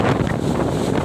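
A strong gale roars in a constant, loud rush buffeting the microphone, strong enough to stop a jeep on the road.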